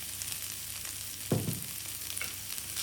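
Green beans and grated coconut fry in a pan with a steady low sizzle, and a single brief scraping stir of the spoon stands out partway through.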